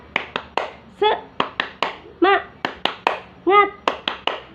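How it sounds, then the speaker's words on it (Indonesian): A group claps a rhythmic cheer pattern, with sharp unison claps in quick bursts alternating with short chanted vocal calls, close and lively. "Oke, kita tepuk semangat dulu ya. Tepuk semangat."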